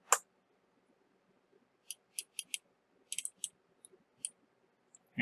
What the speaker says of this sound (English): You go ahead and click on Submit this article.